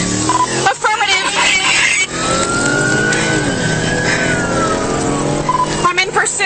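A blue motorcycle's engine revs and accelerates during a police pursuit toward Louisville, its pitch climbing steadily and then falling away, fairly loud and close, mixed with bursts of people talking.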